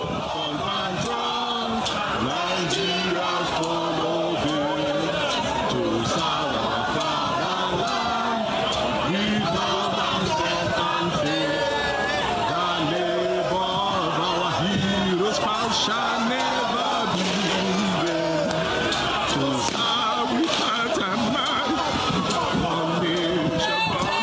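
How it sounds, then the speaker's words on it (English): Large crowd of demonstrators in Lagos, Nigeria, singing the national anthem together, a dense, loud mass of voices sustained throughout with shouts rising above the collective singing. "a crowd of demonstrators who were singing Nigeria's national anthem"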